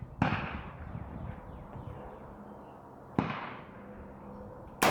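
An AR-15 with a 14.5-inch barrel fires 62-grain .223 Hornady Black rounds, giving three sharp, loud reports spaced about one to two seconds apart, each trailing off in an outdoor echo.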